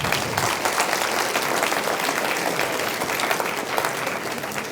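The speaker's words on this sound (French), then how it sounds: "Oui, on peut les applaudir." Audience applause at a university talk with a central bank governor, steady dense clapping from a crowd, moderately loud and sustained throughout.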